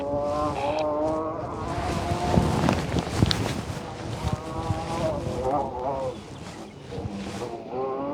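A rally car on a gravel stage at the Oregon Trail Rally, Dalles Mountain, passing with a loud revving engine that rises and shifts through gears, nearby and prominent, with commentators' voices faintly mixed in.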